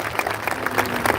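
Audience clapping to welcome Brother Shafi at a community talk in a tribal region, a short burst of steady mixed handclaps filling the room at moderate loudness.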